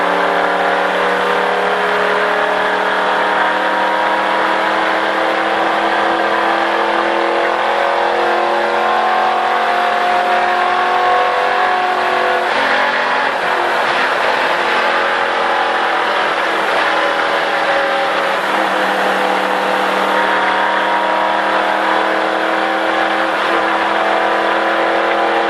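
Stock race car on a track at a driving experience, its engine droning loud and steady with a rising tone as it accelerates and pitches up and down, close throughout with no talking.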